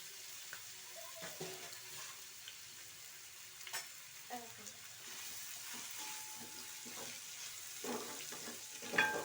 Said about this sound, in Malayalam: എണ്ണ ചൂടായിട്ടുണ്ട്. അപ്പോൾ സവോള ഇട്ട് വെച്ചിട്ടുണ്ട്.